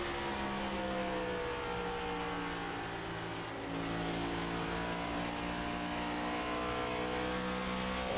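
A sim racing car engine drones steadily at high revs, its pitch wavering slightly as the throttle is feathered through a corner near a wall, with a brief dip midway before the tone climbs again.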